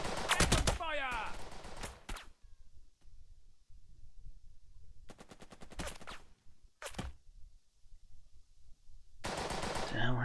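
Rapid bursts of machine-gun and rifle fire crackle in the war game Burden of Command. Several loud, close volleys are separated by quieter gaps, with voices briefly heard between them.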